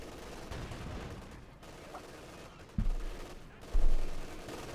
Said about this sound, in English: there you go, Katyusha rocket launcher